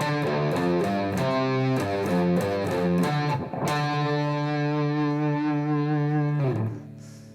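A heavily distorted electric guitar plays a chugging riff of repeated notes, then strikes a chord that rings out and fades near the end.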